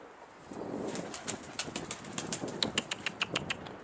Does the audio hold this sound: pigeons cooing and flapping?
yes